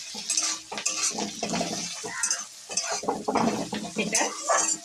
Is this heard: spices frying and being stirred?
yes